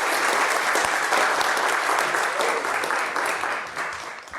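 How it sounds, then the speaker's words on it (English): A city council audience in Bastrop applauds students, giving steady, dense clapping that stays loud and close for over four seconds before thinning slightly at the end. "Let's give them a round of applause."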